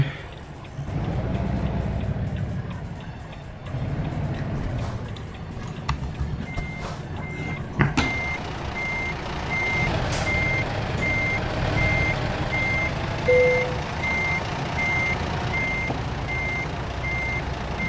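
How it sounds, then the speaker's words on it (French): Regular electronic reversing beeps from a truck in American Truck Simulator, a steady repeating tone over a low diesel engine rumble, with a few sharp clanks and air-brake hisses along the way. "il y a le bip de recul"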